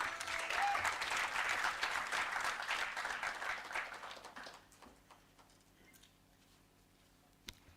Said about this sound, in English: Some more clap for her, please.